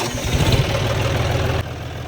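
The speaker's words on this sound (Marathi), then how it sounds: "अरे माऊली तू ट्रॅक्टर चालवायचं म्हणतो" A tractor engine chugs and idles close by with a steady low rumble that eases slightly toward the end.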